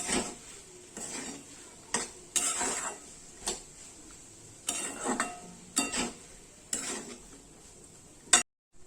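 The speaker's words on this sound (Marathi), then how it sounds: "आपण एकदम मिक्स करून घ्यायची, व्यवस्थित परतून घ्यायची भातामध्ये।" A metal spoon scrapes and clatters around a pot while masale bhat rice is stirred and sautéed, in a series of separate loud scraping strokes with brief pauses, and a faint sizzle sits underneath.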